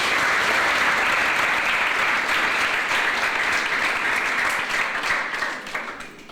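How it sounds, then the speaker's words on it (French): Loud, dense audience applause at a careers fair event fills the hall at a steady level, then tapers off near the end. "Je vous demande de les applaudir."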